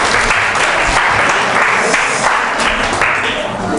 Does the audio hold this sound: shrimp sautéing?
no